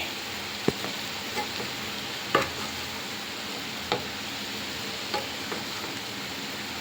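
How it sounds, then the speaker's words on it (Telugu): Rice mixed with potato masala powder being stirred in a pan, soft steady scraping and frying hiss with a few sharp spoon knocks against the metal, close and alone. "ఇలా రైస్ వేసేసుకుని మొత్తం కలిపేసుకుందాం ఒకసారి"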